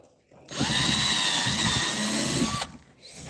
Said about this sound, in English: I can come back with the drill and